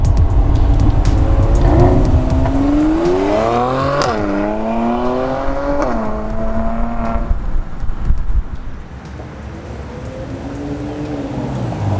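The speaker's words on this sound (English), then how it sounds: "that classic AMG exhaust that sounds like thunderbolts" A Mercedes-Benz C43 AMG V6 exhaust roars loudly and rises through revs, pitch sweeping up and dropping between gear changes, then easing to a lower drone.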